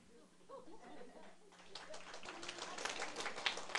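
Scattered clapping from an audience at a political lecture, starting thin and building into denser applause, fairly quiet and mixed with murmurs and brief voices.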